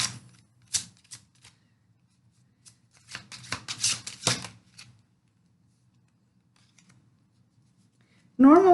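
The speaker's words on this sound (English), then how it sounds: "I'm going to start with my shuffling routine" Tarot cards being shuffled by hand in a few short bursts of papery riffling and snapping, close and fairly quiet, with silent gaps between and a voice starting at the very end.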